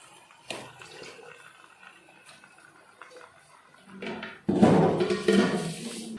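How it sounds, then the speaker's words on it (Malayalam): Washed chicken pieces, about 1.25 kilos, tipped into a pot for a Kerala chicken curry, a wet clattering splash that starts abruptly and rustles on after quiet scraping, fairly close and loud. "കഴുകി വൃത്തിയാക്കി വെച്ച ചിക്കൻ ചേർത്ത് കൊടുക്കാം"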